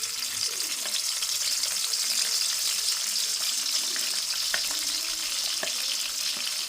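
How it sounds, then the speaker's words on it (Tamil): Green chillies and onion fry in hot oil with a steady, moderately loud sizzle, overlaid by small scattered clicks and light stirring sounds, nobody speaking. "இப்போ பச்சை மிளகாய் வெங்காயத்தை போடுவேன்"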